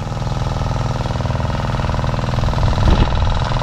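A motorcycle engine running close by at a steady idle, a pulsing mechanical throb that swells slightly louder near the end, no talk.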